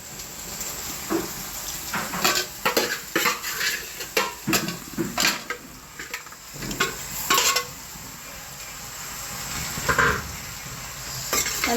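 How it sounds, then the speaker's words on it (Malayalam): Spoon stirring a mildly spiced curry in a small pot, with repeated scraping and clinking strokes in irregular bursts over a faint sizzle, close and fairly loud. "നല്ലോണം ഒന്ന് ഇളക്കട്ടെ."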